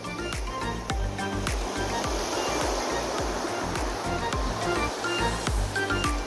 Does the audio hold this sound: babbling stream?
yes